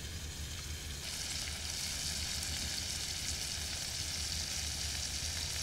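Hilsa fish from the Payra river fries in hot oil, giving a steady, dense sizzle that runs loud and unbroken throughout, with faint stirring beneath it.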